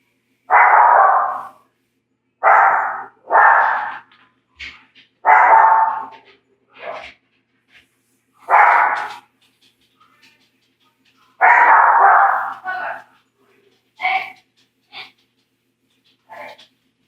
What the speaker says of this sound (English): Sorry about my dog. She's freaking out.